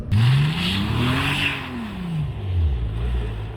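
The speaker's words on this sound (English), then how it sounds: "We are cruising right through the snow." A 12-cylinder Bentley Continental GT cruises through snow, its engine holding a steady, loud drone that rises and falls in pitch as it moves.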